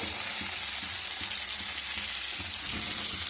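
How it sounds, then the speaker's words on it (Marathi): Mixed vegetables fry in a hot pan with a steady, close sizzle and frequent small crackles and pops throughout, and no voices. "आता थोडंसं मोठं करते म्हणजे फटफट होईल"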